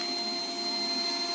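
A vacuum cleaner running steadily with a continuous loud whirring roar and a high whine, close and alone.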